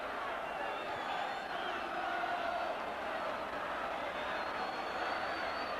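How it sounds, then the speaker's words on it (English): Home crowd at a Halifax Town versus Spurs League Cup football match cheering a headed goal, a broad, steady roar of many voices held at constant loudness throughout with no talk. "it's given the home crowd good reason to cheer"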